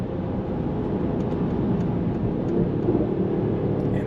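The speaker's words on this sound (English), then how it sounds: "And there's this crackles and pops" Exhaust of a Mercedes-Benz GLS 63 AMG SUV rumbles continuously at moderate level as it carries speed, with faint crackles and pops scattered through the low drone.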